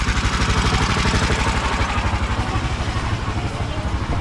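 A jeep engine runs continuously nearby with a steady, throbbing mechanical rumble, while people talk over it in a busy vegetable market setting.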